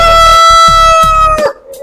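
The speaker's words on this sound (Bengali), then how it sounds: "দেখতে পাচ্ছেন মুরগিটা কিন্তু ডাকতেছে, ব্যাপক পরিমাণে আওয়াজ হচ্ছে তার গলা থেকে" A tiger breed hen on a chicken farm calls loudly and close, a sustained harmonic cry broken by a few sharp clucks, with no talk.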